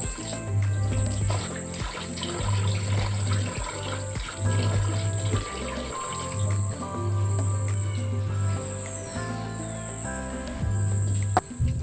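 Onion, carrot and coriander are washed under running tap water, a close splashing trickle interrupted by pauses as the stream is turned on and off, with a faint high hum behind.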